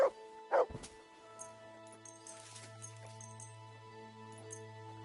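A dog barks and yips twice at the start in Kingdom Come: Deliverance II, short and fairly close, followed by quiet game ambience with a low steady hum.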